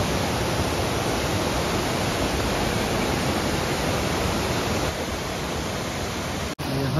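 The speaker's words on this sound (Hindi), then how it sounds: "आवाज भी आ रही है वो पानी के झरने की ना" A roaring waterfall on a road trip through Coorg, a steady, loud broadband rush of falling water that fills the whole clip without a break, close and continuous with no voices.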